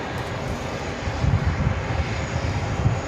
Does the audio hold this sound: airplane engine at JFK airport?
yes